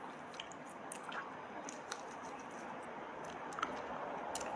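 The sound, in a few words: chewing and eating sea cockroach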